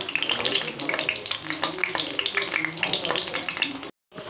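Pea pod fritters frying in a pan over a medium flame, a steady close crackling sizzle with fine pops throughout, briefly cut off near the end.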